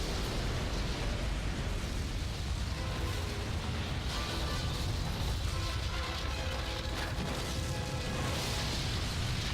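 Explosions rumble through a collapsing building in the Xbox 360 game 007: Quantum of Solace, a dense low roar with scattered crackling debris and bursts that runs continuously at moderate level, no talk.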